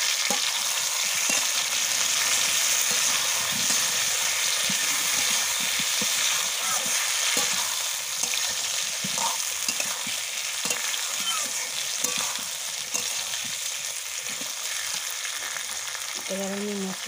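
Chopped tomato frying in a pan for Bengali mutton kosha, with a continuous moderate sizzle and repeated scraping, stirring knocks throughout, and a brief voice near the end.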